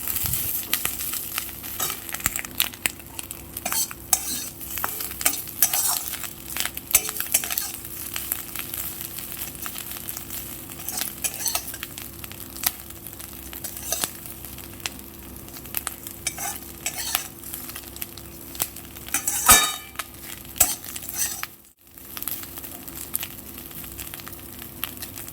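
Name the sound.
fish scales frying in a pan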